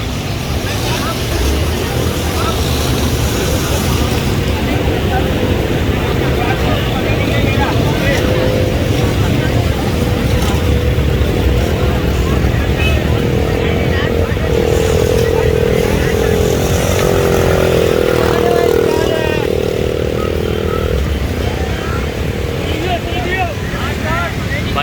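Cars and motorbikes push through a flooded monsoon street in North Karachi, engines revving and droning continuously close by, with someone talking over the traffic noise.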